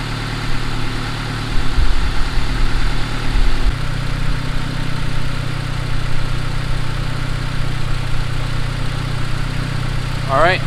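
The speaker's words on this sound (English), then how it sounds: "I'm pretty happy with that idle right there." A turbocharged Honda Accord engine idles with a steady, rumbling drone close by, with a slight shift in tone partway through.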